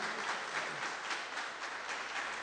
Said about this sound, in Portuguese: Dê uma salva de palmas para o Senhor Jesus.